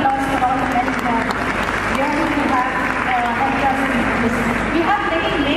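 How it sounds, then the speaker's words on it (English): A conference audience at a women's conclave and awards event in Hyderabad claps steadily for the men present, with people talking over the applause throughout. "I think a big round of applause for all the men here."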